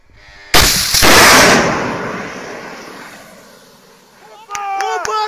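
Loud burst of gunfire aimed at a helicopter in a military conflict, a single sharp crack followed by a long, rolling blast that fades over several seconds, then excited shouting voices.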